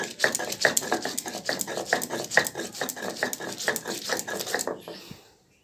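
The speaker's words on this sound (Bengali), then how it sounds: "এখন ধনে জিরেটা বেটে নিচ্ছি।" Coriander and cumin being ground by hand on a flat grinding stone, a steady rhythmic series of scraping, knocking strokes about three per second, close and clear, stopping abruptly near the end.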